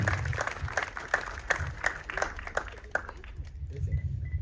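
Applause for a production team, cast and crew at the Aaradhana movie premiere: steady clapping from a moderate audience with distinct sharp claps standing out, thinning toward the end, with faint voices underneath.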